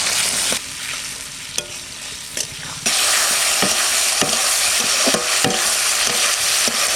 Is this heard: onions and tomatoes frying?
yes